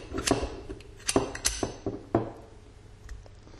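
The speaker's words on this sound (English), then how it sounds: "So we're going to put the bolt back in the carrier." Metal parts of an AR-15 being fitted together as the bolt goes back into the bolt carrier, a series of light clicks and clinks in irregular rhythm, close by and fairly quiet, with no talking.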